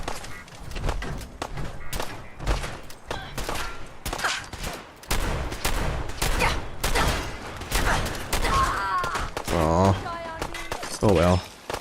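Rapid gunfire aimed at a robot's fusion core in Fallout 4, a dense barrage of loud, close shots and thuds with brief pauses, mixed with game effects and some speech.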